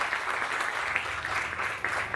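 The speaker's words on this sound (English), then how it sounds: "We would like to right now give them a huge round of applause." Steady crowd applause for emergency medical services at a hospital's tenth-anniversary ribbon cutting, an even wash of many hands clapping throughout, fairly close and loud.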